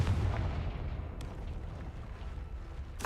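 In the Hogwarts Legacy video game, a Confringo blasting spell explodes with a heavy, low rumbling blast that decays slowly. A sharp crack follows near the end.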